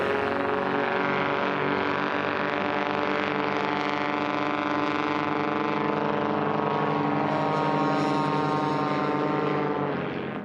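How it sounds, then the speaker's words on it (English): Lycoming 340 aircraft engine with computer-controlled fuel, run up hard with its propeller toward 3,000 RPM on a STOL drag race lane, a loud, steady, close droning roar that holds throughout. "Now listen to this engine in Tim's aircraft on the number 1 lane."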